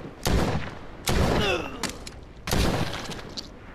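Three loud, close gunshot blasts from a handgun in the VR zombie game Saints and Sinners, each with a booming echoing tail, spaced about a second apart.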